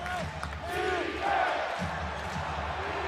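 NBA basketball arena crowd cheering during a game, a broad sustained roar with swelling shouts and a commentator's voice over it.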